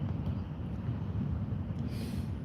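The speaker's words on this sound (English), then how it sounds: "It is a little bit windy, just bear with me." Wind buffets an outdoor microphone beside a camera tripod as a low, steady rumble. The gusts are fairly quiet and continuous, with no voices over them.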